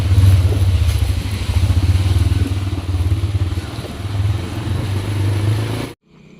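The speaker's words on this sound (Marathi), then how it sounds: "राईडची सुरुवात झालेली आहे" Motorcycle engine droning steadily close to the mic during a group bike ride in Konkan, with a low rumbling hum and wind roar that holds nearly constant before cutting off abruptly near the end.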